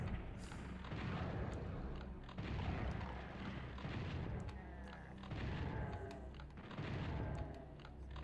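Rapid bursts of chaingunner gunfire from Doom II on PlayStation, with dense, continuous booming shots that swell and fade in waves over several seconds of close, busy combat.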